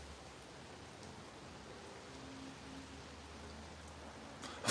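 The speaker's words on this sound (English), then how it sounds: "It is bucketing it down." Heavy rain pours steadily near Acton Bridge, a dense, even hiss of falling water holding at a constant low level throughout, with no voices.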